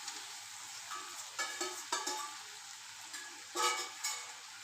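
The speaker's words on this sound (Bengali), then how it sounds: "এবারে আমরা ভাজা মাংসটাকে আমরা ঢেলে দিলাম।" Fried chicken pieces are tipped into a spice paste already sizzling in oil, giving a soft, steady sizzle with several louder bursts of hissing and clatter as the meat lands and is moved around.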